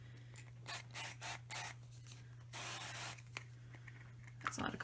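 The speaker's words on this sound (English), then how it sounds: "That's a lot of cooking spray." Cooking spray sprayed from a can onto hot cookware in a home kitchen, several short near hissing bursts with one longer spray, over a constant low electrical hum.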